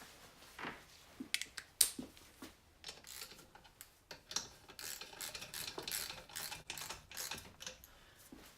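Bolts on a BMW R80 airhead engine being tightened during an overhaul, close-up: a run of small irregular metallic clicks and ratcheting ticks, quiet and near, with no talking.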